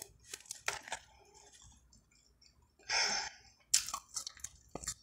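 Close, quiet chewing of cold Rally's fries, with wet crunches and mouth noises in irregular bursts separated by short silences.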